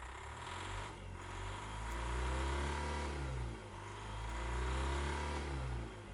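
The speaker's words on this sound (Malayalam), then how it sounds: "ഇതാണ് റേസ് ചെയ്തിട്ടുള്ള വണ്ടിയുടെ സൗണ്ടാണ് നിങ്ങളിപ്പോൾ കേട്ടത്" A Tata Intra V10 pickup engine, one with a fault, revs up twice in long smooth swells, its mid-pitched drone rising and falling close by with no one talking.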